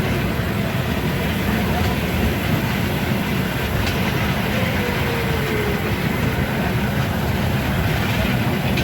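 A Chennai Express train in motion gives a loud, continuous rumble of wheels and carriages, steady from start to end with no break.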